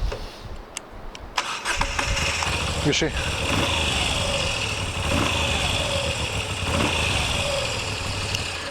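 A Moto Guzzi V7 Stone motorcycle engine fires up after a few clicks, then settles into a steady, close mid-pitched idle that runs continuously while someone briefly speaks over it.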